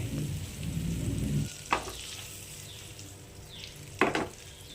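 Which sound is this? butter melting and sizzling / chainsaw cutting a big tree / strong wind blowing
butter melting and sizzling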